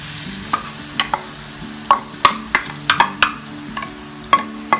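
Cha-om leaves fry in hot oil in a pan with a continuous soft sizzle, punctuated by a dozen sharp, irregular scraping strokes of a spatula against the pan, close and clear.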